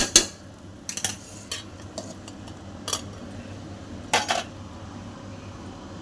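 Mutton curry is stirred in a pot, with scattered metallic scrapes and clinks of a spoon against the vessel over a faint low background hum, close and intermittent.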